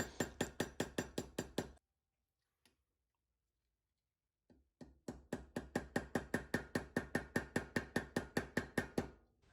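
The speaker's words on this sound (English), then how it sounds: "You really don't need to tap it very hard to get it to sort of mushroom the head with the peening hammer." A peening hammer taps a rivet head on a Victorinox Climber Swiss Army knife in quick, even, sharp metallic strikes, a burst of about a dozen, a pause, then a longer run of regular taps, close and clear.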